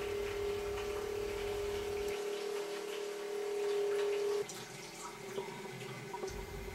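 Fermentation liquid pumped into a stainless steel pot, a faint, steady flow of running liquid with a low hum and light ticking that stops partway through, leaving a quieter background.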